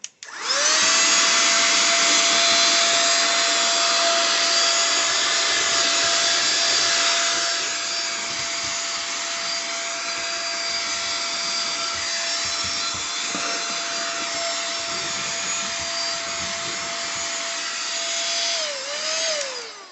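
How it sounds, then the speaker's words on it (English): A small rechargeable vacuum cleaner works over a model train layout, giving a loud, close, high-pitched whine that starts abruptly, holds steady, drops slightly in level partway through and winds down at the end. "It's a nice little vacuum."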